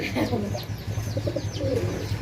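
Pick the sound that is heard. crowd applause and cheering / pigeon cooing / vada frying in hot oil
pigeon cooing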